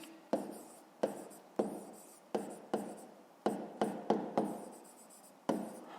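Pen writing on paper at a school desk: about a dozen separate short scratchy strokes, each starting sharply and fading, close and quiet, with brief pauses between.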